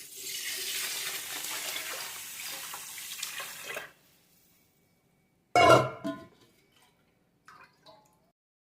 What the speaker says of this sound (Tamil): அந்த தண்ணி அதில் ஆட் பண்ணிடுறேன்.